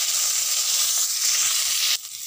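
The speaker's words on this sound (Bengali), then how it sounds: "আমি কড়াইতে আবার তেল দিয়ে গরম করে তার মধ্যে ফুলকপিগুলো দিয়ে দেবো।" Cauliflower florets frying in hot oil in a wok, a steady dense sizzle held for about two seconds before it abruptly drops quieter near the end.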